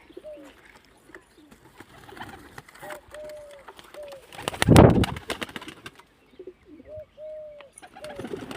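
Pigeons let out of their enclosure coo repeatedly in soft, low calls close by, with a sudden burst of wing flapping midway and a person's voice briefly in the background.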